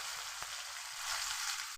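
Cumin seeds sizzle in hot oil for Maharashtrian baingan bharta, a steady close-up crackling hiss that stays loud and even throughout with a brief pop near the start.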